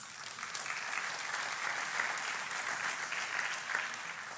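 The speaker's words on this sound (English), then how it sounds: "So nice to get the golf par applause." Polite, moderate applause from a church audience, even and sustained clapping at a soft distance with no talking over it, easing slightly at the end.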